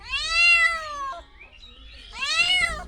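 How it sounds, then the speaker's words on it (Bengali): Two loud, drawn-out meows close by from a cat fallen into a fish tank, one after the other with a short pause between them. "আমার মাছের ট্যাঙ্কিতে দেখেন বিড়াল পরে রয়েছে"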